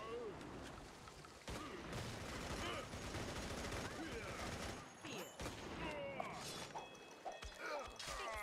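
In The Showdown Effect, a fast 2D multiplayer action game, dense bursts of gunfire, sniper shots and crashes fill the mix continuously, with a voice talking excitedly over the chaotic game audio.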